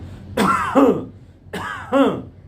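A voice imitates a cough with two harsh, throaty cough bursts, each in two parts, spaced about a second apart and close to the listener.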